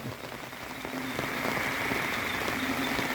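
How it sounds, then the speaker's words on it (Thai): Steady rain pattering on a surface, a dense continuous hiss with scattered drop sounds, close by and without talk. "โอ้วันนี้มาพร้อมสายฝนนะครับ"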